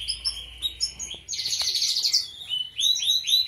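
Young bird chicks nearly 60 days old chirp loudly and continuously at close range, high shrill calls overlapping in rapid bursts, with one harsher stretch of calling in the middle.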